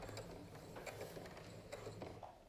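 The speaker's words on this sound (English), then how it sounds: "then all the way down and back stitches to lock it in" A sewing machine stitches down a pocket face mask and back-stitches to lock the seam, making a steady, close mechanical whir with ticking needle action throughout.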